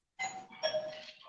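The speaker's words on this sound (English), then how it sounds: "Somebody doorbell ringing." Doorbell rings with a two-tone ding-dong chime that is bright and clear, starts abruptly after a moment of silence, and sounds with no talk over it.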